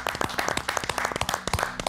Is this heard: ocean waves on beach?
no